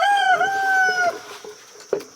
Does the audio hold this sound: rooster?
yes